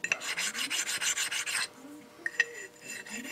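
A hand-ground sharpening stone rasps back and forth against a steel angle plate in a home metal shop, a run of rapid close strokes followed by a few slower, separated rubs.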